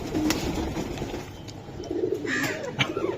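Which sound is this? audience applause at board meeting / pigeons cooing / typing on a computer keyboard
pigeons cooing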